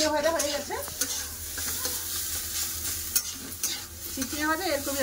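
Fried snake gourd sizzles in a pan while a spatula stirs and scrapes it, a close, steady frying hiss broken by clattering strokes.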